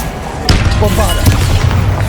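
Bombarda explosion spell in the video game Hogwarts Legacy, a loud booming thud about halfway through followed by a second impact and rumbling battle noise, with a voice briefly audible underneath.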